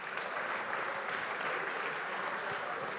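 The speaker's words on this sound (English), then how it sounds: "Give yourselves a round of applause." Dense, steady clapping from a group fills the whole stretch at an even level, with no voices standing out.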